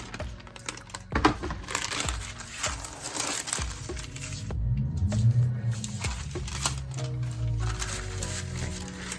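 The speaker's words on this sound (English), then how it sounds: "I want to put some parchment paper underneath it to try to keep it from absorbing into my workbench." Parchment paper being handled on a workbench while crafting a Halloween door hanger, with scattered crinkles, taps and rustles, some louder bursts and a softer stretch of handling, and no talking.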